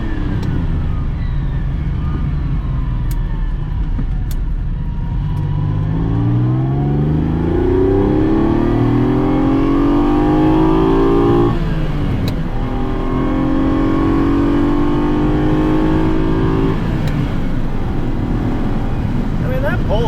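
A low-mileage Dino sports car engine pulling hard from inside the cabin, its note rising steadily through the gears with clear upshifts, loud and continuous under road and wind noise.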